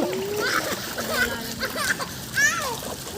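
A child jumps into floodwater for a swim, making a clear splash and splatter with bright high spray, while children shout and talk excitedly close by.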